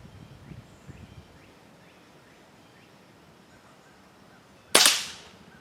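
A single sharp crack from a Benjamin air rifle fired offhand, loud and close, following quiet outdoor ambience with a few soft rustles.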